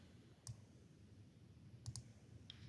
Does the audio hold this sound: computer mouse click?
yes